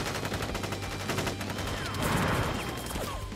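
Soldiers in Crisis Core Final Fantasy VII fire a sustained volley, a dense rattle of overlapping shots that swells toward the end, loud and close throughout.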